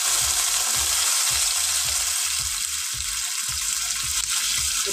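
Potato fries in a pan, giving a loud, steady sizzle that holds throughout, with a rhythmic thumping underneath like stirring or a pulsing burner.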